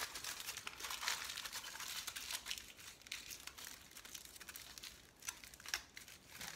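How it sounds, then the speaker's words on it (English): Tin foil crinkles and crumples continuously as it is squeezed and shaped into a sculpture's legs, a close, quiet, uneven rustling with sharper crackles scattered throughout. "The legs aren't that strong, so I'm gonna use another piece of tin foil."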